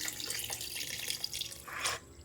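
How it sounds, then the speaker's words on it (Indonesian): Water poured into a container of salted mustard greens to submerge them for pickling, a steady splashing gush that rises briefly near the end before stopping, heard close with no talking. "Masukin air sampai terendam ya airnya."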